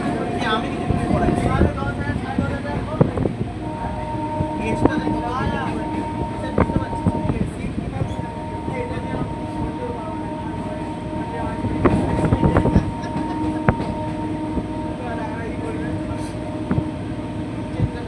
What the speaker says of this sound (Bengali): ও নিজে সেলফ বিবাদীবাগ থেকে ট্রেন ছাড়লো